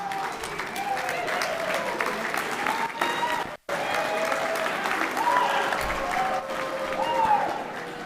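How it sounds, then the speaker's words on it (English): Varsity athletes at a university awards gala clapping and cheering for themselves, a steady roomful of applause with scattered whoops and chatter, briefly cut to silence midway before resuming. "Okay, you guys got to cheer for yourselves"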